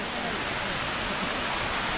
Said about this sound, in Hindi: सुंदर जलप्रपात ब्यूटीफुल वाटरफॉल एकागुड़ी